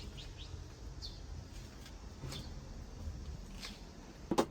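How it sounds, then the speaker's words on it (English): Birds sing faintly outside an apartment window in Beijing, giving a few thin, brief chirps scattered over a quiet, steady room hum, with a small clatter at the end. "Sometimes we can even hear birds singing outside."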